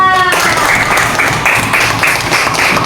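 Classroom applause for a student presentation group in a fifth-grade lesson, loud rhythmic clapping in unison with steady repeated beats after a brief tonal sound at the start.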